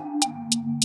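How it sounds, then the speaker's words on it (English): A hi-hat beat in FL Studio with vintage reverb on the hats: three bright, evenly spaced hat hits, each with a short washy tail. They sit over a sustained low synth tone and are heard alone, with no talking. "I add a reverb to my hats"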